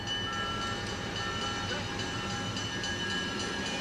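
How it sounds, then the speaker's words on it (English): A train rumbles past behind the listener in Texas, a steady, fairly loud continuous roar of rail noise with faint tonal hints that may be a distant horn, lasting the whole moment with no talk. "Well, that was a train behind us."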